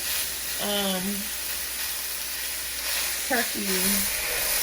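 Ground turkey, still partly frozen, sizzles and fries in a pan with a steady close hiss, while a person speaks briefly twice over it.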